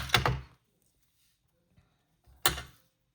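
Two sharp, crisp snips of scissors cutting a ribbon tail for a handmade card, close and clear, separated by a quiet pause with a faint rustle.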